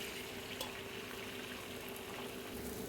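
Beaten egg hits hot oil in a pan, giving a soft, steady sizzling hiss that stays fairly faint and even for a few seconds.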